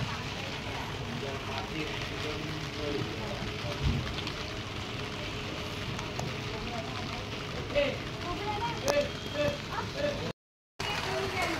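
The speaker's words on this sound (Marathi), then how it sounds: "इकडे पावसाला सुरुवात झाली" Rain falling at night during an unexpected January shower, a steady wash of drops over muffled background noise, with a brief dropout near the end.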